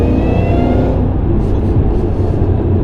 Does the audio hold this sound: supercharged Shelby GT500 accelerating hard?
yes